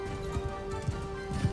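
Horse hooves clip-clop in a few soft, uneven beats within Mount & Blade Bannerlord, faint and close over a steady game ambience hum.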